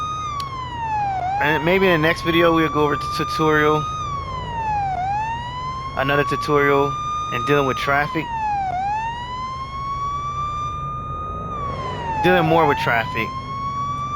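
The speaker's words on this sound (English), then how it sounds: "So I'm gonna stop the sirens" Wailing police car siren from the Police Simulator: Patrol Officers video game, sweeping up and down in long cycles throughout, loud and continuous beneath someone talking.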